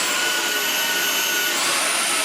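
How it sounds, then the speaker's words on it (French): A Xiaomi Jimmy H8 Pro stick vacuum cleaner runs in max mode, giving a loud, steady whine with broadband airflow hiss that holds for about two seconds. A slight tonal shift comes near the end, and no voices are heard. "quand vous êtes en mode max, l'aspirateur a tendance à avancer tout seul"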